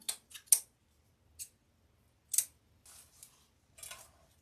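Scissors snipping the tails of craft butterflies for a spring wall basket, a handful of crisp, close cuts spaced irregularly against near silence.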